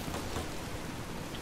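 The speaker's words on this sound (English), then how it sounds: "Oh no, it's starting to rain." Steady rain hisses down in a post-apocalyptic video game wasteland, a dense, even wash of falling drops with no voices.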